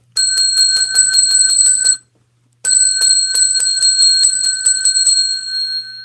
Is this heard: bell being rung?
yes